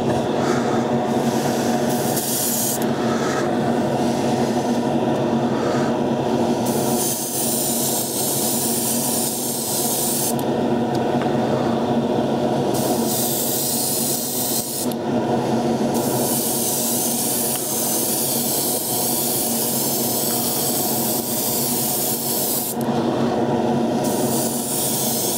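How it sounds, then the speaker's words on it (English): A paint spray gun applies blue paint on a model of the Enterprise, giving a continuous loud hiss throughout with slight surges and dips as the trigger and airflow vary, no voices present. "let's do a bit of blue spraying"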